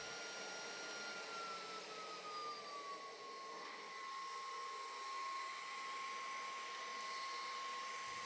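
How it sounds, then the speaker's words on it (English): An ATVEL F35 TotalClean cordless vacuum cleaner runs with the floor attachment for dry vacuuming, a steady airy whine with a tone that shifts slightly in pitch, constant and alone with no talk. "When using the floor attachment for dry vacuuming, you get 2 modes, Eco and Max."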